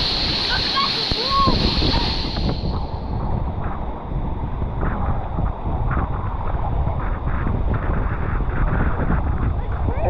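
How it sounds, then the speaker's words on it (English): A large waterfall roars continuously with rushing, splashing water at close range, loud and steady throughout, mixed with wind buffeting the microphone. "Huge waterfall."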